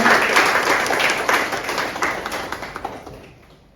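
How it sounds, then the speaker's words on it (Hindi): Loud applause from a gathered audience at a Brahma Kumaris birthday celebration, a thick wash of clapping near and full at first, thinning into scattered individual claps that fade away toward the end. "अपने लिए और एक बार जोरदार तालियां।"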